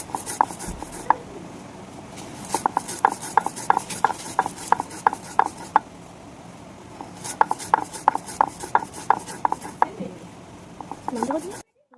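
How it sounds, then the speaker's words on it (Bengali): Roasted coriander seeds are ground on a flat grinding stone with repeated rough, rasping strokes that come in quick uneven bursts, close and fairly loud, with a short pause near the middle. "এবারে শিলে ভালো করে গুঁড়ো করে নেব ধনেটাকে।"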